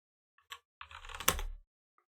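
Typing on a computer keyboard while entering words in a daily word game: a few isolated clicks, then a quick close run of keystrokes, then one last soft tap, with no talk.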